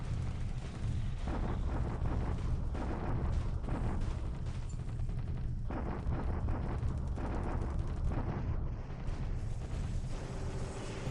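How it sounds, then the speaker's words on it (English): A bombardment in the video game War in the Pacific, set around Colombo in April 1942, rumbling as a dense, continuous barrage of booming explosions and artillery fire that stays loud and unbroken throughout. "Okay, that was a nice bombardment."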